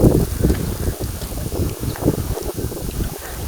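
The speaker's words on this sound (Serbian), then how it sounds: "Malo duva vetar" Wind blows across a boat marina at Edipsos on the island of Evia, Greece, a continuous loud buffeting rumble hitting the microphone with fluctuating gusts and no voices.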